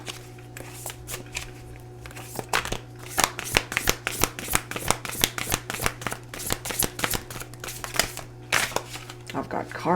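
Large tarot cards are handled and shuffled in a steady run of crisp riffling slaps and flutters, close and fairly loud, over a constant low electrical hum.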